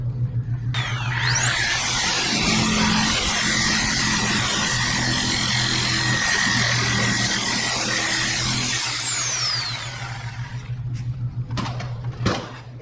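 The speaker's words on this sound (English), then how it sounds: "Or you can take a reciprocating saw, jab saw as I call it." A reciprocating saw cuts out a leaf spring bushing on a 1969 Mustang Boss 302, its loud motor whine spooling up and holding steady before winding down, followed by a couple of sharp knocks.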